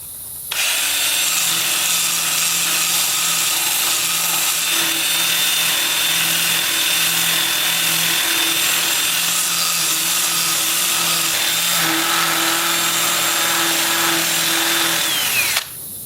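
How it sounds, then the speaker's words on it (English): A 2-inch, 80-grit sanding disc grinds against olive wood on a lathe, a loud, continuous whirring rasp with a steady motor whine that runs unbroken for the whole stretch, stopping abruptly at the end. "I will switch to my 2-inch sanding disc at 80 grit"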